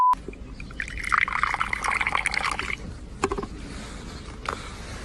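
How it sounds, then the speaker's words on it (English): Juice pouring into a container, a steady liquid splash and trickle lasting a couple of seconds, close and fairly loud, followed by a few brief drips and knocks with no one talking. "first they poured the juice"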